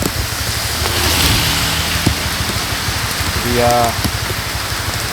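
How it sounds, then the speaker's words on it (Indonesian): Heavy rain pours steadily during a motorcycle tour stop in fog on the Jogja–Bandung route, a dense continuous hiss with low rumbling, while a voice speaks briefly over it. "hujan deras dan turun kabutnya seperti ini"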